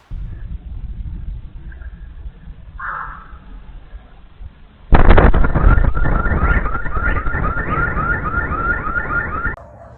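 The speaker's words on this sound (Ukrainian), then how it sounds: "через гучний звук у деяких будинках затряслися шибки, спрацювали автомобільні сигналізації" After a low rumbling background from an explosion in Rostov-on-Don, a car alarm suddenly starts blaring, its repeating electronic wail loud and steady until it cuts off.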